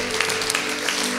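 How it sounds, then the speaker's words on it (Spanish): Church congregation applauding during a Spanish-language online service, a short, dense burst of many hands clapping together, fairly loud and close, with a low hum beneath. "Dale un fuerte aplauso a Dios una vez más."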